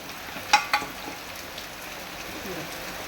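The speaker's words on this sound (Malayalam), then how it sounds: "നല്ല അടിപൊളി മഴയാണ് ഇപ്പോൾ പെയ്തുകൊണ്ടിരിക്കുന്നത്" Heavy rain falling outside as a steady, soft broadband hiss, fairly quiet throughout, with a couple of sharp clicks near the start and no voices.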